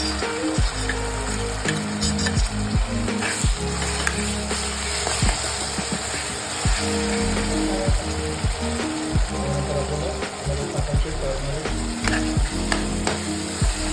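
Onion, garlic and green chili fry loudly in oil for a methi and potato dish, giving a dense continuous sizzle broken by rhythmic scraping and clattering stirs of a utensil in the pan.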